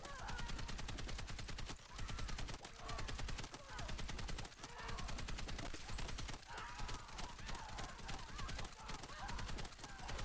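Rapid, continuous automatic gunfire from Battlefield 6 keeps up a dense, steady rattle for several seconds, loud and unbroken except for a few brief gaps.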